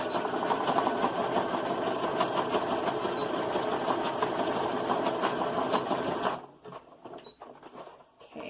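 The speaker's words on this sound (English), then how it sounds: "now I'm going to zigzag stitch right there" A sewing machine runs fast and continuously, zigzag stitching a seam on a toddler satchel bag, with a close rapid mechanical chatter that stops abruptly, followed by a few faint clicks.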